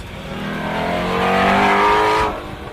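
A Ford Mustang GT350R's naturally aspirated 5.2-liter flat-plane V8 swells into a loud, rising rev, holding a bright, raspy note before cutting off abruptly.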